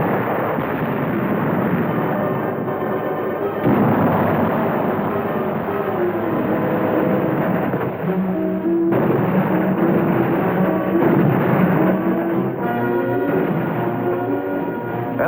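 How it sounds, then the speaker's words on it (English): Enemy artillery shells burst on the Iwo Jima beach in a continuous loud roar of rumbling explosions, with sharper blasts at intervals, overlaid by a dense, heavy wall of battle noise. "Enemy artillery is zeroed in on our positions."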